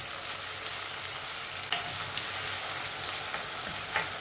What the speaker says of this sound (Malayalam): അരിഞ്ഞ് വെച്ചിരിക്കുന്ന ടൊമാറ്റോ ഇതിനകത്ത് ഒന്നിട്ട് വഴറ്റിയെടുക്കണം